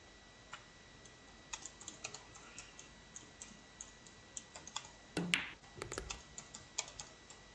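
Keystrokes on a computer keyboard tap out in an irregular run of light clicks, close and fairly quiet, with a brief burst of louder clatter partway through.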